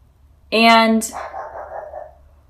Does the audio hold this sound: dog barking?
yes